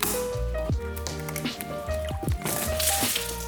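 Water from a leaky roof dripping onto alloy wheels after storms, a steady run of close, hollow plinking drops at an irregular pace over a constant wet background hiss.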